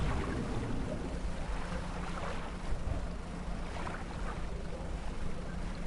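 A fishing boat sails across open water in the video game Dredge, a continuous broad rush of engine, wind and waves that stays loud and even throughout, with no voices.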